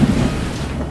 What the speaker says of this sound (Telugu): ఒకరోజు మంచి వర్షం కురిసింది.